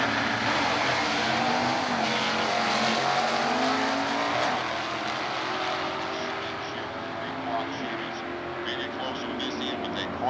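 Chevrolet and Chrysler stock eliminator drag race cars at a 1992 NHRA Division 2 event in Atlanta, engines roaring loudly and steadily with a shifting rising drone, heard under continuous announcer commentary.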